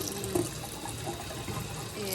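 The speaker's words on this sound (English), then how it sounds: "now let the water run for a minute" Tap water runs steadily into a sink while a dyed garment is rinsed, a continuous close splashing rush with small gurgles and no speech.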